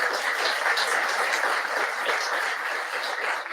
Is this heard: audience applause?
yes